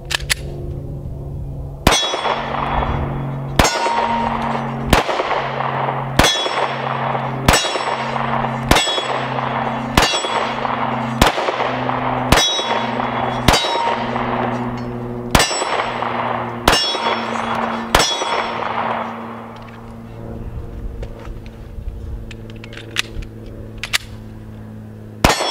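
Pistol shots from a Springfield Hellcat ring off steel targets in a steady string of about thirteen sharp reports, each followed by a metallic clang and ringing decay. The shots are loud and near, with a quieter tail at the end and no talking.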